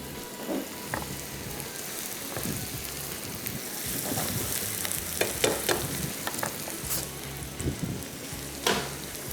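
Chicken frying in a pan as a green masala of coriander, mint and green chili is stirred in: a dense, steady sizzle with scattered scraping and clicking of the spoon, close up, no talk.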